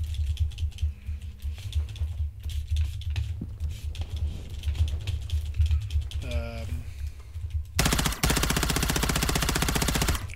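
Call of Duty gunfire aimed at an enemy UAV, a rapid automatic burst ripping loud and continuous near the end, preceded by scattered game sounds, keyboard clatter and a player talking.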